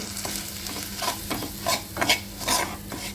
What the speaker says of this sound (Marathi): आणि तेलावरती परतून घेऊ छान